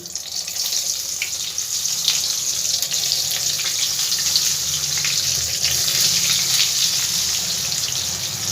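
Eggplant slices go one by one into hot oil in a pan over a medium gas flame. A steady, fairly loud hiss and sizzle continues without break, and no one speaks.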